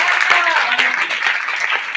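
Crowd applause with dense, steady clapping from many hands, fairly loud and continuous for a couple of seconds.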